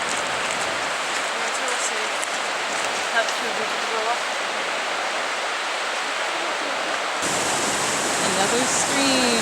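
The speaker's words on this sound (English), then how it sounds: "Another stream coming down, flowing along, joining other water, going down to the river." A mountain stream in New Zealand rushes downhill to join other water on its way to a river, a loud, steady broadband roar close by that continues unbroken throughout.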